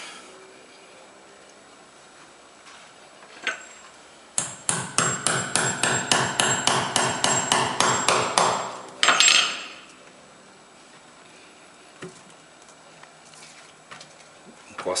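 About fifteen quick hammer blows drive a nail into wood for a tire planter pot, a rapid, evenly spaced run of sharp knocks close by, with quieter scattered taps before and after.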